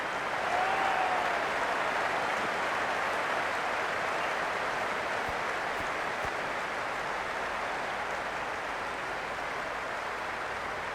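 A packed stadium crowd at a Women's T20 World Cup cricket match between India and Australia cheers before the toss, producing a loud, continuous wash of roaring and clapping with no voice rising above it.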